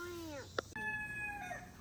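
A backyard chicken in a home vegetable garden gives a short run of clucks and calls, with a human voice speaking nearby, followed by quieter bird chirps.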